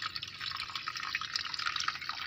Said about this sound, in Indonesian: Memang hidroponik itu menggunakan media air seperti ini, air mengalir dan mengalir ke sana.